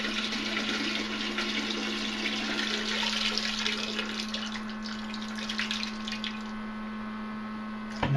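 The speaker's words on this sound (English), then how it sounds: "press this button with my thumb, and again, we only have a few flushes in here" A Thetford 92360 (Model 550E) portable toilet flushing: a steady rush of water with a constant pump-like hum running for several seconds, close and fairly quiet.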